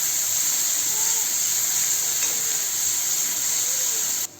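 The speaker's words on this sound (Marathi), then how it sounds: "कांदा परतून झाल्यावर टोमॅटो आपण परतून घेऊया" Tomato and onion sauté over a high gas flame in a pan for a sprouted field-bean curry, giving a loud, steady hiss and sizzle that runs unbroken and then cuts off at the end.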